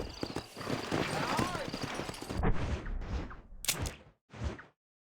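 Horse hooves clip-clopping in Red Dead Redemption under continuous talking, a dense clattering rhythm that breaks off into a few separate louder thumps near the end.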